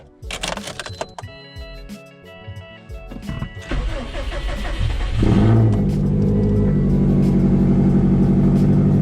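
A Subaru WRX STI cold-starts with a whirring starter crank, catches with a loud bark and settles into a rough, deep, steady idle that stays loud and close.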